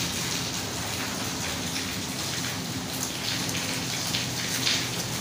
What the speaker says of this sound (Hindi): आज ही बारिश शुरू हो गई।